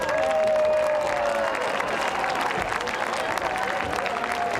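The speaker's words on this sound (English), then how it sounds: "Would all alumni please stand for a big round of applause?" A stadium crowd at a 2017 high school homecoming football game applauds standing alumni, with broad, distant clapping and crowd noise mixed with a faint ringing tone over the public-address system.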